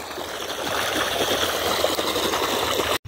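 Water from a solar-powered pump gushes into a farm field, a steady close splashing rush with a gurgling texture that briefly cuts out near the end.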